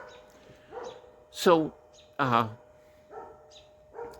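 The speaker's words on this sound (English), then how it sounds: "Now there's a dog barking, but I'm going to continue on." A dog barks outdoors in two loud, separate bursts, each a short run of harsh barks, while a person keeps talking quietly in between and a faint steady hum runs underneath.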